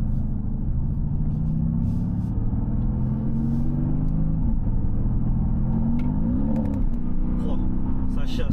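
A Mercedes-AMG GT V8 rumbles with a deep, continuous exhaust note that swells and revs, heard from inside the car while someone talks over it.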